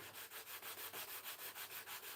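Wood being hand sanded on the top of the leading edge of a model RC plane's elevator, a steady rhythmic rasp of back-and-forth strokes, about six per second, close and fairly quiet with no talk.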